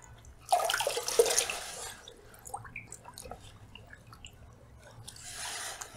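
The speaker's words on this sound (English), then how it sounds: "Good rinse here, and that's all set to go." A biomedia tray from an aquarium canister filter is rinsed under running water, giving two bursts of close splashing and trickling separated by quieter dripping and handling.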